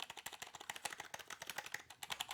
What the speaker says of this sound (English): of course, a key press test up close